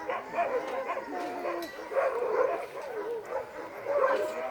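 Several sled dogs at Denali National Park yip and bark excitedly at middling distance, overlapping in an uneven, continuous chorus with a few whines mixed in.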